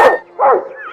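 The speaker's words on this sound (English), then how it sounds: "jumped up and barked at the mischievous creature" A family dog barks sharply at close range, one loud yelp followed by a second softer, whining bark, with no other sound around it.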